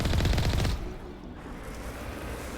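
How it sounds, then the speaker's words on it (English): A burst of rapid, loud gunfire in the video game Mass Effect rattles for under a second, then fades into a low, steady background rumble. "apologize that the gunfire is so loud"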